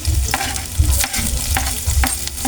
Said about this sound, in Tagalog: Gisa na natin yung ating sibuyas at bawang.